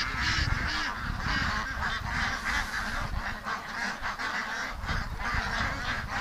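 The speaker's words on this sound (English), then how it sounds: "I'm focusing on this little duck to see if it goes into the pen." A small duck out near its pen honks and quacks continuously among other fowl, a busy steady bird chorus with no talking.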